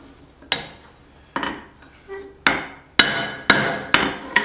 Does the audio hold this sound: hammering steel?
yes